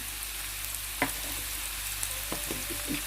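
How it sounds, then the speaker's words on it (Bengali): Spices such as cumin, coriander, turmeric and chili fry in a pan for meatballs, giving a steady soft sizzle with a few faint stirring clicks. "হাফ চা চামচ করে জিরা ধনিয়া দেবো একটু ভালোভাবে আমি একটা ভেজে নেবো"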